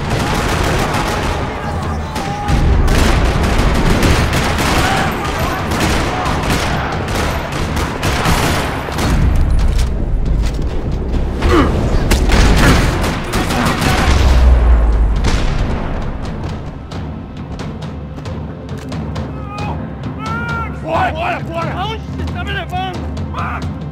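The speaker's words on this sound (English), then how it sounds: "Another parking lot rattling with gunfire." Rapid bursts of gunfire rattle loudly through a parking lot in the video game Max Payne 3, joined by heavy booms, then ease off into quieter background clatter.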